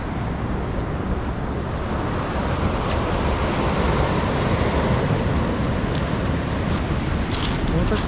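Sea waves wash onto a sunny, empty beach at Lazarevskoye in Sochi, a steady close roar of surf with wind noise on the microphone throughout.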